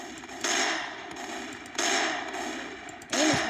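Deagle pistol shots ring out in the Roblox game Strucid, three loud, separate blasts roughly a second and a half apart, each leaving a short ringing tail over low background noise.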